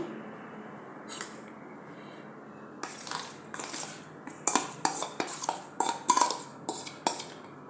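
Boiled medium-sized potatoes going into a pan for a poha and potato breakfast dish, with sharp metal utensil clinks and scraping taps coming in quick irregular bursts against quiet background hiss.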